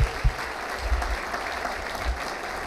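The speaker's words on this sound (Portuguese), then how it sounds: "Uma salva de palmas para eles." Applause from the audience at a New Year 2019 motivational talk in Portugal, a steady patter of clapping that holds for the whole clip with a few low thumps and no speech over it.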